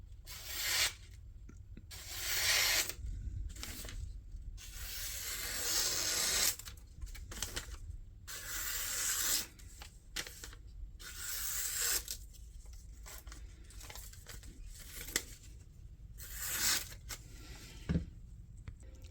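A Gerber scandi grind slipjoint knife slices through a small test piece in a series of scraping, rasping cuts, each stroke a rough burst separated by short silences, up close.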